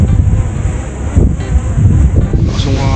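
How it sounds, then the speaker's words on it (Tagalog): Strong wind buffeting the microphone in loud, roaring gusts, with a low rumbling blast that barely lets up. "Lakas yung hangin eh, oh."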